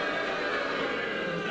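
A theatre crowd gives a short, dense group boo, many voices held together in one steady droning jeer at close range.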